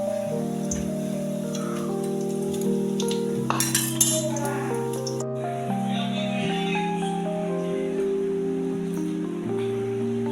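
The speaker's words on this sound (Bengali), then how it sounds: "বড়াটা এখন ভাজা হচ্ছে" Pumpkin flower fritters deep-fry in hot oil, giving a soft, steady crackling sizzle under background music, with a brief clatter near the middle.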